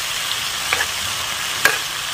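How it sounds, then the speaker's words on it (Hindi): Tomatoes stirred and frying in a pan, a steady soft sizzle with a few brief scraping clicks of the stirring utensil. "अब इस तरह से चला के कर लेते हैं अच्छे से फ्राई।"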